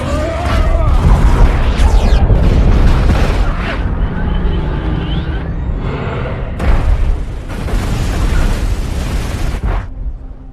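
Heavy booming explosions roll and rumble as a city is destroyed in a film, with crashing debris and bursts layered in a loud, chaotic cinematic mix that fades near the end.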